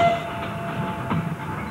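Freight train passing, a steady rolling rumble with faint rhythmic rail clatter, moderately loud and continuous with no voices.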